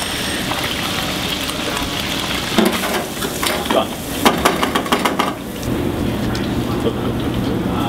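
Smelt fish sizzle and crackle in a hot pan with steady frying hiss, punctuated by clattering stirring or turning noises midway; a voice briefly talks over it.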